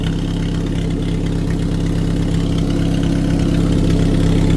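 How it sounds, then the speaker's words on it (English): A Pontiac Sunbird engine idles with an exhaust leak, giving a loud, close, steady rumble with a rapid ticking puff running through it, nothing else heard. "Fucking exhaust leak."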